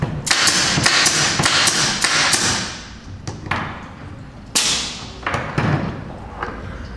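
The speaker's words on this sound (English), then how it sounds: "like this nail gun." Pneumatic nail gun powered by an air supply fires a rapid series of sharp, loud impacts, about eight quick shots, then a few spaced single shots.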